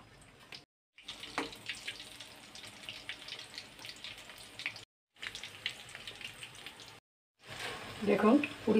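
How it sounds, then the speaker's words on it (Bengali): Puris deep-frying in hot oil give a steady hissing bubble, broken by short gaps and swelling louder near the end, heard close up with a voice speaking over it. "এখন আমি পুরিগুলো ছেড়ে ভেজে"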